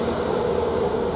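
A train stands or runs at Ely railway station, a steady low engine drone with a mid-pitched hum, loud and close, no voices.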